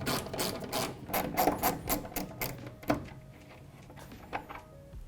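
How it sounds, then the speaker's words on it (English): Small ratchet with a 5/16 socket backing out taillight screws on a 2021-2022 Ford F-150 truck bed, a rapid run of close, crisp clicks that slows and fades, then a few faint ticks. "We're going to use a small ratchet with a 5/16 socket to back both of these out."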